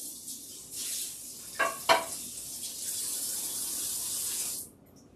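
Water runs from a kitchen tap while a pan is washed, a steady hissing stream with a couple of sharp clanks of the pan partway through, then the flow shuts off abruptly.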